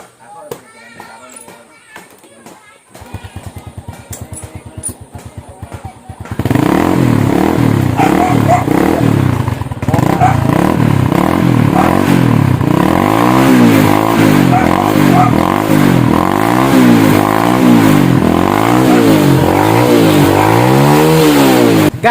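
A new motorcycle engine starts up after some brief clatter, then idles and revs loudly and steadily close by, with rising and falling engine pitch throughout.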